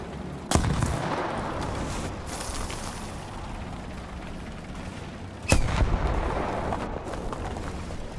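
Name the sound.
artillery fire in the video game War Thunder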